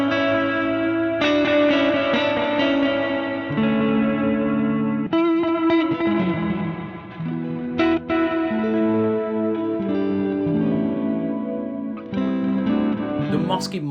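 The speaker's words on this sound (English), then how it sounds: "The gassed is a much simpler reverb and offers up ethereal, ghostly tones." Electric guitar played through a Gassed reverb pedal, sustained chords and notes ringing into washy, ethereal, ghostly tails with pitch-wavering shimmer, loud and continuous.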